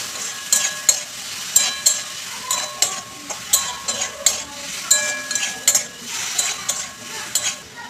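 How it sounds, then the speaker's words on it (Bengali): A spoon stirs ingredients seasoned with turmeric powder in a frying pan, making repeated rhythmic scraping strokes over a soft sizzle. Close and clear, with no voices. "সব কিছু উপকরণ একটু ভালো করে নাড়াচাড়া করে নেব"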